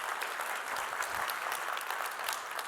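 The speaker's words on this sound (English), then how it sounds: "Let's give them a big round of applause again." Audience applause for a string quartet at an international financial markets conference, a steady, dense wash of many hands clapping continuously throughout without any talking.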